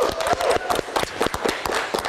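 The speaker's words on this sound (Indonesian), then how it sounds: "Kita berikan tepuk tangan untuk Berdi." Studio audience applause for a reporter on an Indonesian late-night live show, a brief burst of dense, even clapping at moderate loudness with no voice over it.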